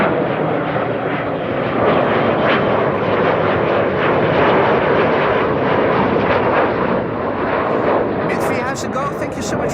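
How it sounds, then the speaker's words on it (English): A Cargolux cargo plane starts to roll at Amsterdam Schiphol airport, its engines a loud, broad, continuous roar that holds steady throughout. "The Cargolux has begun to move."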